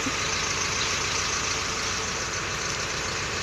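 A large yacht's engine runs at Punta Fuego in Nasugbu, Batangas, producing a steady, loud, broadband rumble with no change in pace throughout.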